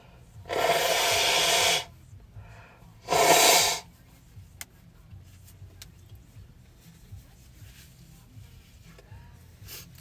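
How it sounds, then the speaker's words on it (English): A nose is blown twice, two long noisy honks in quick succession, close and loud, followed by quiet shuffling. "I'm going to blow my nose now that I got you guys turned a different way"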